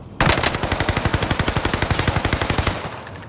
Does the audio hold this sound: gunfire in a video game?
yes